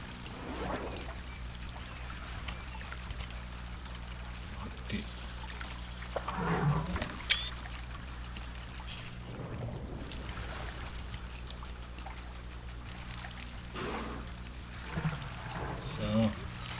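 Water gushes and pours as an elephant sprays from its trunk in the Planet Zoo video game, a steady splashing stream over busy game ambience, with a few brief louder surges and voices talking over it.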